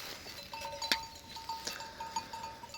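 Sheep grazing loose on a harvested oat field that has sprouted green again after winter rain, with several faint bleats at a distance against outdoor background noise and no talk.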